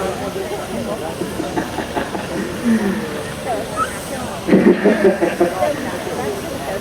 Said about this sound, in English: So number 19 is a 4-inch scale Foster traction engine